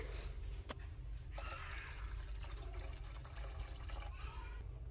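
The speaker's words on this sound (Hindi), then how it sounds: "तो यहाँ पे मैं और थोड़ा सा पानी डाल दूँगी" Water poured into a simmering crab curry gravy in a home kitchen, a soft, continuous splashing trickle, faint and close, with low background hum.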